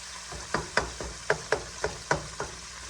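Ground beef seasoned with salt and black pepper stirred in a pan, a soft sizzle punctuated by about eight distinct scraping knocks of a utensil at an irregular pace, close and clear, no talking.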